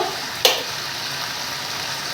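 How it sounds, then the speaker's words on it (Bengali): Chicken sautéing in a pan gives a steady, close hiss of frying, broken once early by a sharp clink of a stirring utensil, with no talking. "চিকেন বসিয়েছি চিকেনটা কষে এসছে একটু কষবে"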